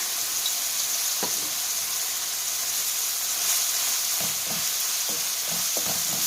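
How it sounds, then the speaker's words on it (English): Minced garlic, about a tablespoon, sizzling in a hot pan while cooking a pizza pasta dinner, a steady bright hiss with a few soft stirring scrapes toward the end. "I'm just going to add about a tablespoon of garlic."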